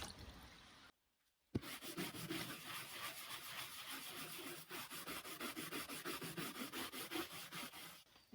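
A scrub brush scrubs the coarse wood of a vintage cheese box in quick, rhythmic back-and-forth strokes, close and steady after a brief pause near the start.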